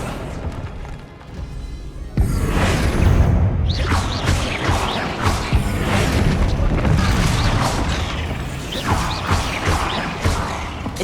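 Accio spell effect in Hogwarts Legacy: a sudden loud magical whoosh and boom that gives way to a churning rush of crashing, swirling effects, continuing for several seconds.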